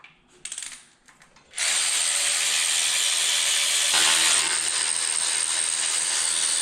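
A ratchet or power tool removing 10 millimeter bolts from a transmission pan on a Trans Am LS swap, a few clicks and knocks and then a steady loud whirring buzz that runs on continuously, no talking.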